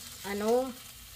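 Annatto seeds (atsuete) sizzle in hot oil while being stirred in a pan, a brief close frying hiss that swells and fades within about a second.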